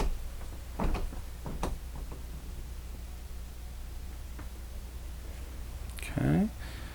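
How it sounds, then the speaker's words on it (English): Half-bath door inside a 2015 Newmar Dutch Star 4002 RV being shut, brief soft knocks and a latch click early on, against a quiet room hum, with a short voice near the end. "Okay, we shut that door."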